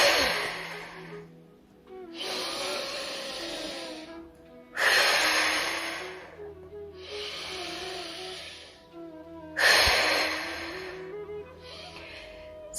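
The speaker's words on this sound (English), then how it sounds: "You can either blow out 1 candle with 1 breath" Forceful pursed-lip breaths blowing out a candle, done as a home breathing exercise: four long, loud airy blasts, each a couple of seconds, separated by short pauses.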